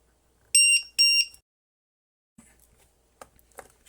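Two loud, shrill electronic beeps from a low-voltage battery alarm on a Taiyo Edge hovercraft sound close together, followed by quiet clicks and handling noises.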